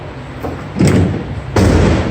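Doors on a 2017 Ford Transit T-150 mid-roof short-wheelbase cargo van being shut, two heavy metallic thuds about a second apart, loud and close with no talking.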